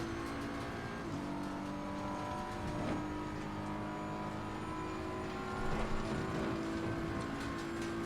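The engine of a racing car in a simulator game drones steadily with a continuous hum and mild shifts in pitch, with no talk.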